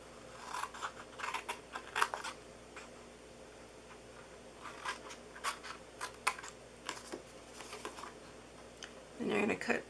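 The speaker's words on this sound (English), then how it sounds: "you're going to cut down that score mark there, and then down here" Scissors snip through paper along a score mark while a gift box is made, giving a series of sharp, close cuts in irregular bursts, with faint talk in the background.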